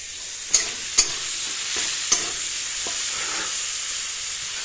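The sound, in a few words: fish frying in a pan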